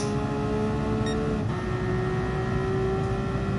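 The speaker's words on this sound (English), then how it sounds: "it's just the car engine." A racing car's engine in Gran Turismo Sport drones at a steady, sustained pitch with a faint whine above it, holding fairly loud and even throughout, with no voices present.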